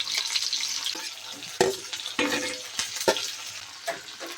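Onions frying with salt in a hot pan sizzle steadily and brightly, broken by several close, irregular scrapes and clatters of a spoon stirring them.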